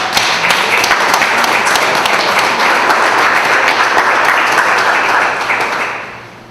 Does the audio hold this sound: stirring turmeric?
no